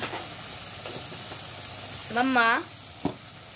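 Spices and turmeric frying in a pan give a continuous soft sizzle with light stirring, and a voice briefly calls out partway through before the frying carries on.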